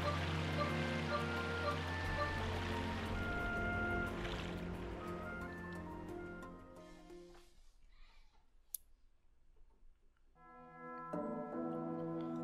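Boat gliding across water in The Legend of Zelda: Skyward Sword, a steady wash of water and hull noise under layered game music that fades toward the middle, leaving faint ticking and a brief click before the music swells again.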